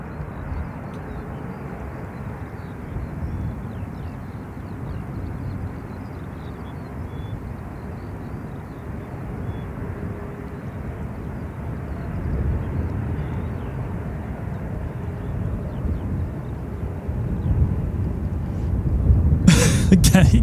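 Distant airliner reverse thrust after touchdown at Gatwick Airport, a broad, steady roar of engine noise that swells gradually, with a short burst of sharper sound right at the end.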